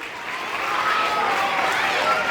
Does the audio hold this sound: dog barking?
no